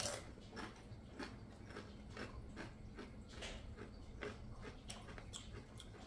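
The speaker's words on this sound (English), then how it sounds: "It's a crunchy chip." Crunchy bites into a spicy One Chip Challenge tortilla chip, a string of faint, sharp crackling crunches repeating roughly every half second, close to the mouth with no talking.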